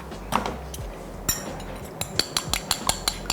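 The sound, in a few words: whisking an egg in a bowl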